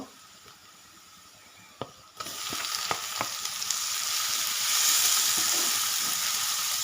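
Tomatoes sizzle in a hot pan, the crackle jumping louder after a few sharp clinks and then holding as a steady hiss.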